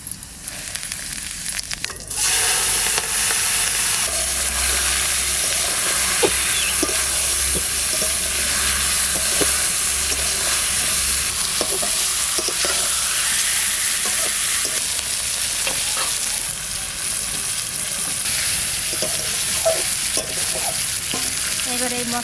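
A bay leaf, a dried red chili and cumin seeds sizzle loudly in hot oil for a Bengali katla fish belly curry. After a brief quiet start the steady frying hiss is punctuated by occasional stirring scrapes.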